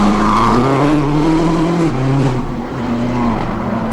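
Peugeot 307 rally car at Rally Monte Carlo in 2006, engine note loud and close, revving through gear changes with rising and falling pitch, briefly easing off before pulling hard again.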